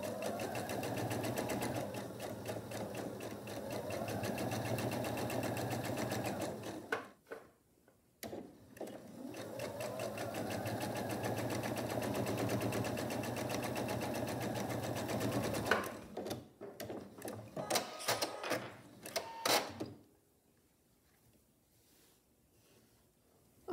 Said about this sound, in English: will take it to the machine and sew on each side of my drawn line 1/4 inch on each side